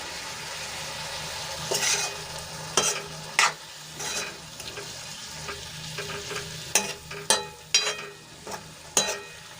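Radish-leaf masala frying in a pan sizzles softly, and water poured in sets off louder bursts of hissing, broken by scraping stirs and clicks of a spoon against the pan.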